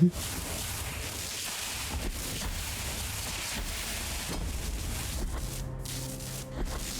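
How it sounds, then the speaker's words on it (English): Thunder and lightning effect in the video game Blasphemous, heard as a steady, hissing, rain-like rumble with occasional faint crackles, continuous and moderately quiet in the background. "Can the lightning sound please stop playing?"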